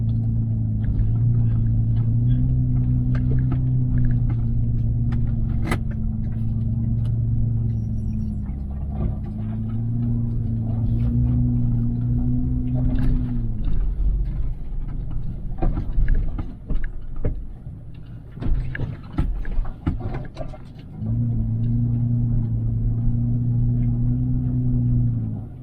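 A vehicle driving off road at night through Ocala woods, its engine a steady loud rumble with shifting pitch, briefly dropping and rattling over rough ground before the drone returns.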